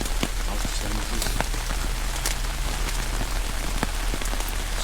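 Heavy rain pouring down during an outdoor interment of ashes ceremony, a dense continuous patter of drops hitting surfaces close by, loud and steady with no talk.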